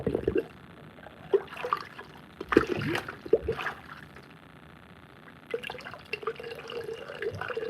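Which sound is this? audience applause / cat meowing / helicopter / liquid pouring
liquid pouring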